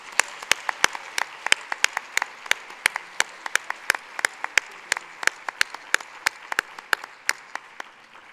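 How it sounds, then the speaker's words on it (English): A conference audience at a UN DPI/NGO gathering claps steadily, with many sharp individual claps standing out as a sustained round of applause from a large hall. "I hope you'll give a rousing applause for our team just one more time"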